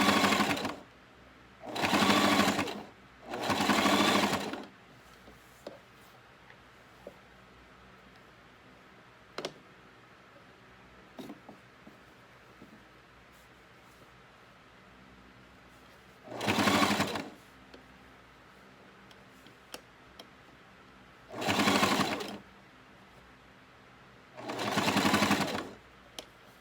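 Sewing machine stitching along the edge of a cami bodice in five separate bursts, each a couple of seconds long, with quiet pauses and faint clicks between runs.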